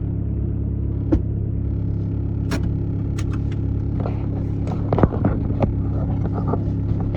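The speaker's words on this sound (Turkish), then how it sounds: "Şu benim torpido niye bu kadar ses çıkarıyor?" Rattling glovebox in a diesel car, a steady low engine rumble underneath with scattered sharp clicks and knocks from the dashboard compartment, a few louder rattles standing out near the middle and end.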